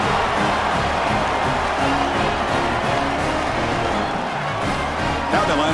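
A large stadium crowd in a college football video game's championship game roars continuously, a dense wash of cheering and noise that stays loud and steady throughout.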